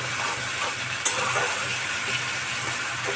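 Tomato fries in a pan with a steady, close, hissing sizzle that fills the whole stretch, broken only by a single small click, with no talking.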